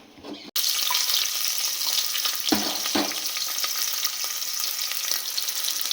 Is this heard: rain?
no